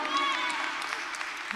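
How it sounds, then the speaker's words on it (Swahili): A church congregation at a Kikuyu-language service claps in a brief, dense burst of steady applause, with a few thin whistle-like cries riding on top. "Tumpigie makofi."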